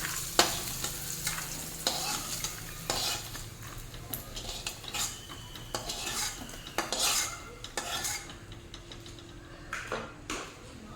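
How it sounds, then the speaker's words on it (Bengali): Bitter gourd slices frying crisp on high flame in a wok, with a soft continuous sizzle under repeated scraping and clinking of a metal spatula stirring the pieces. "হাই ফ্লেমে মুচমুচে করে ভেজে নেব।"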